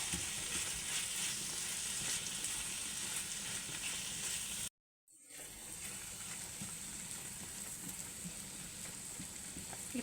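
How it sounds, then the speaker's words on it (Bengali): Chapa shutki (dried fish) frying in a pan while being mixed, a continuous close hiss and crackle with faint stirring, cut by a brief silence midway before the sizzle resumes. "এখন ভালোভাবে এই চাপাটাকে মিশিয়ে নেব।"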